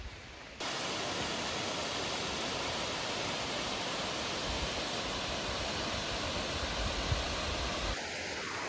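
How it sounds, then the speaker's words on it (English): A waterfall in Mount Rainier park, Washington, cuts in as a dense, steady rushing roar that holds evenly for several seconds, then drops away at the end; no one speaks. "a lot of the waterfalls in Washington are just absolutely glorious"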